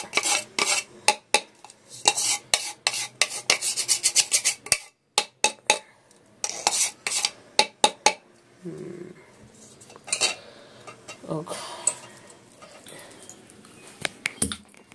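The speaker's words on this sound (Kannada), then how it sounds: "ಬೆಳ್ಳುಳ್ಳಿ ಈ ತರ ಜಜ್ಜಿಟ್ಕೋಬೇಕು" Sharp, repeated knocks and clinks in uneven bursts as garlic cloves are pounded and crushed, with brief quiet pauses between rounds.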